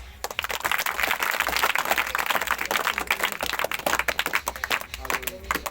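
Students at a tuition and computer centre clap in a loud, dense burst of applause that continues steadily, with some talking mixed in.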